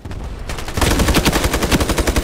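Rapid automatic gunfire in the online shooter Ironsight, loud and close, with a quieter burst first and then a dense, steady stream of rounds from about three-quarters of a second on, with no talk.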